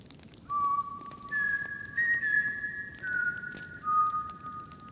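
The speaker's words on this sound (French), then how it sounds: "il est 3h03 et le sifflement commence à se faire entendre" High, wavering whistles glide in long sustained tones, rising and shifting pitch over a low rumbling background, eerie and unbroken for several seconds.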